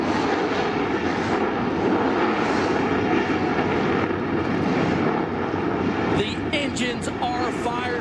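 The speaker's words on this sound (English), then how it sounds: "Start your engines." Race car engines firing up together at Pocono for an ARCA Re/Max Series 200 race in 2004, a loud sustained roar of many engines with a steady rumble throughout and a brief rise in sharper revving near the end.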